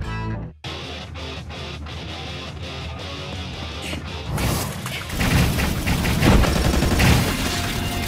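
Automatic gunfire erupts in an anime fight, with rapid bursts and booming impacts that build into a loud, dense barrage over the second half.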